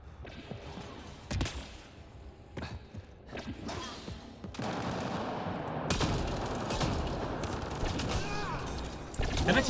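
Turret gunfire in the video game Mass Effect Andromeda, with dense bursts of rapid shots and heavy thuds that build to a sustained loud barrage across the second half.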